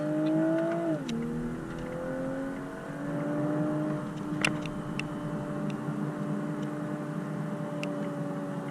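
A 2021 Toyota GR Supra 3.0 engine heard from inside the car, droning and climbing in pitch, dipping briefly at a gear change early on, then pulling steadily onto a freeway amid passing traffic.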